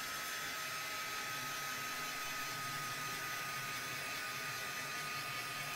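A heat tool drying white paint on a craft project gives a steady, even whoosh of blowing air. It runs continuously throughout and sounds fairly faint, with no talk.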